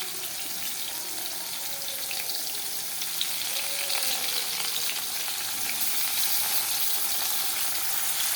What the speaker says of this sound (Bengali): পটল ভাজা সব দিয়ে দিলাম